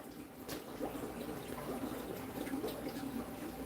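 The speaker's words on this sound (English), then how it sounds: "I'll probably pick up this one, the Lagoon Tank. It's bubbling away." A Lagoon Tank aquarium bubbles away with soft, steady trickling and fizzing water, faint and continuous, with no clear voices.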